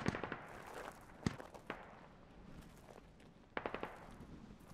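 A BTR firing HE rounds in the military shooter game Squad: sharp, punchy cannon reports come in short clustered bursts, some near and loud, others fainter, with a quieter battlefield rumble in between.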